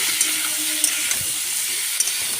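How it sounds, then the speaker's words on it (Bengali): Kohlrabi and potato pieces fry and get stirred in a pan, giving a steady close sizzle with a few light scrapes and clicks of the spoon, no voices. "এবারে দিয়ে দেবো ওলকপি আলুটা দিয়ে ভালো করে নাড়াচাড়া করতে হবে, ভাজা ভাজা করে নিয়ে"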